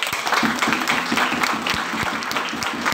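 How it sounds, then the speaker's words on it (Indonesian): Crowd applause at a village head candidate debate in Warmare, Manokwari, Papua: a dense, steady burst of many hands clapping, fairly loud and continuous for about three seconds. "Kita beri aplaus dulu."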